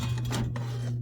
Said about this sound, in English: Got some pots and pans.